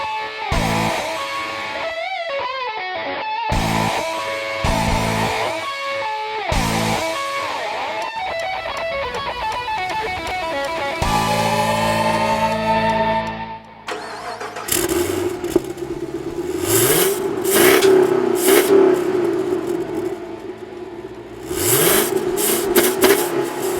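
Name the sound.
2012 Chevy Camaro 45th Anniversary V8 engine accelerating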